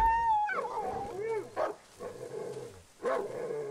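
Dog in the survival horror game Darkwood giving a few short barks and whines, with harmonic yelps at the start and a couple of sharp bursts later, close and moderately loud over a low ambient background.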